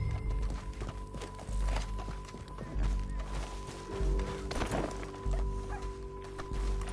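A horse gallops in Red Dead Redemption 2, with steady rhythmic hoofbeats pounding at moderate volume under a low, sustained game soundtrack.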